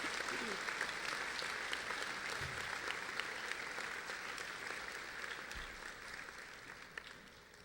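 Audience applause at a 2014 senior awards ceremony, a steady dense wash of many hands clapping that continues for several seconds and tapers slightly toward the end.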